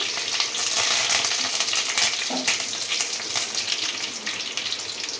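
Mustard seeds and freshly washed, still-wet leaves hit hot oil with a loud, spitting sizzle that is most intense at the start and settles into a steady frying hiss, close up with no voices.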